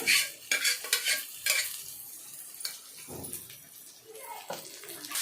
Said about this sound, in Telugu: బాగా వేగాలండి. కందిపప్పు, పొనుగంటి ఆకు తాళింపు అండి.